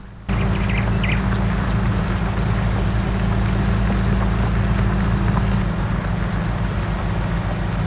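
Tractor ploughing a field in a farming game, a steady, loud low engine drone with a constant rumbling hum that holds evenly throughout.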